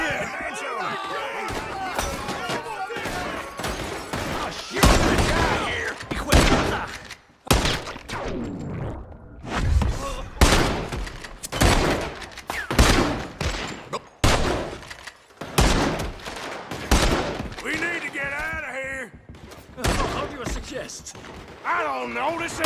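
Gunfire in Red Dead Redemption 2, sharp bursts and scattered shots ringing out between stretches of talk, loud and close, with voices speaking throughout.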